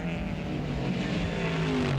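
1972 Production touring cars race at Warwick Farm, with a Ford Falcon GTHO accelerating down the long straight, a steady droning engine roar with rising harmonic tones heard alone and fairly close.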